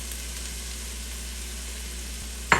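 A pan with garlic gives off a steady low sizzle of frying oil, ending in a sudden louder crackling burst as sliced peppers drop into it.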